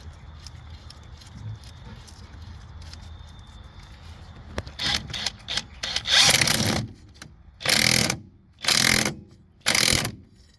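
A ratchet tightening a 14 mm bolt on the strut of an Infiniti during a front passenger axle replacement: faint clicking at first, then four loud, close bursts of rapid ratcheting clicks with short pauses between them.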